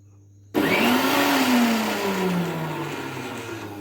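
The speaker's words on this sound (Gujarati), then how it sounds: "આપણે લીલું લસણ અને મરચાંની આ રીતે મિક્સરમાં આપણે પેસ્ટ કરી લીધી છે" A mixer grinder switches on abruptly and whirs loudly, blending green garlic and red chillies into a paste, its pitch rising and then gradually settling as the contents break down.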